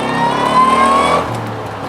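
A supercharged 2007 Roush Stage 3 Mustang rated at 415 hp accelerates hard with a loud, rising engine note. The supercharger whine climbs steadily for about a second, then the revs drop sharply as the car eases off.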